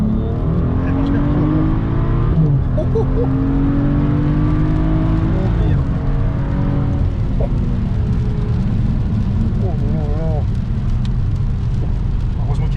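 A BMW 335i with xDrive accelerates hard in sport mode, its engine loud and continuous with rising tones through the gears, heard from inside the car as people talk over it.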